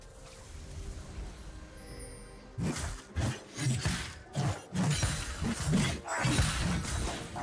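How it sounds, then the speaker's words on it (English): A turret crumbling in League of Legends, a run of crashing, shattering impacts in uneven pulses following a quiet lead-in, fairly faint overall. "Red team's turret has been destroyed."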